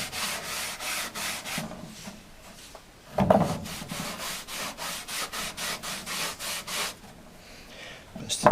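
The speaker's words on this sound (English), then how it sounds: "Put some wax on, spread it out." Wax is rubbed by hand onto a wooden bureau in rhythmic back-and-forth strokes, a dry repeated scrubbing close up, broken by a brief clatter partway through.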